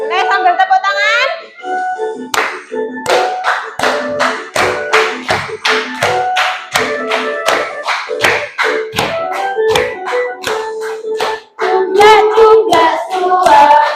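Children sing a song together while clapping their hands in a steady rhythm, the claps landing as sharp, evenly spaced beats under their voices in a classroom lesson.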